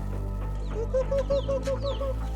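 Chickens cluck in a short run of regular, moderately loud calls over a steady low hum, with faint higher bird chirps in the background.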